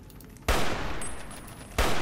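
Two loud, sharp gunshots from Fallout: New Vegas blast out about a second apart, the first trailing into a long rumbling echo with a faint whine before the second crack.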